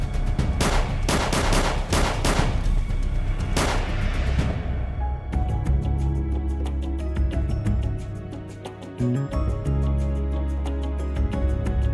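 Several sharp gunshots ring out in a South African TV drama series, loud and close in quick succession over the first few seconds, followed by a swelling dramatic music score.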